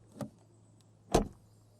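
An Audi A3's doors shut with a softer thump followed about a second later by a louder, firm slam, heard close over a faint steady hum.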